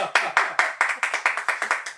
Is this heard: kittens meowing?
no